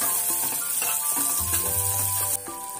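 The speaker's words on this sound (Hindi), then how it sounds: "फ्रेंड्स ये देखिए हमारा अदरक लहसुन भून चुका है। शिमला मिर्च और प्याज को ऐड कर देंगे।" Ginger and garlic already browned in a pan as capsicum and onion go in, frying with a steady bright sizzle and occasional stirring scrapes, close and fairly loud with no talk.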